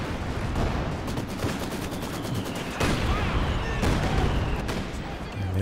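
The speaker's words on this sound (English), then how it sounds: "artillery coming in" Artillery fire in the World War II strategy game Company of Heroes 2 during a large 4v4 battle: loud repeated booms and blasts over steady gunfire and battle noise, with a voice speaking faintly underneath.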